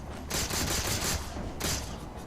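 Rapid bursts of gunfire in Halo 4 as a player peppers an Elite, two dense volleys with a short pause between, loud and close.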